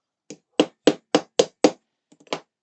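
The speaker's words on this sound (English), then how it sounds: "I am going to use a hammer just for a bit of" A hammer taps a part of a World of Warcraft Lich King model kit into place: six close, crisp, evenly spaced knocks, then a few lighter follow-up taps, with silence between.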